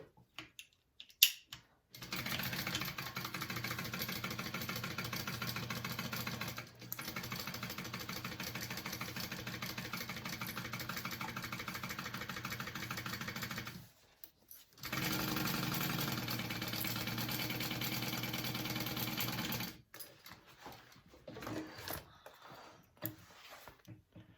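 A sewing machine stitches a pocket onto a unisex tote bag, running steadily in two long close bursts with short pauses between and brief handling noises around them.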